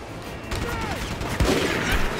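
Bursts of gunfire from the Rogue Warrior video game crackle over a steady, dense background of combat noise, with a sharper, louder shot or two near the middle and end of the short stretch.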